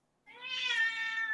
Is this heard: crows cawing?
no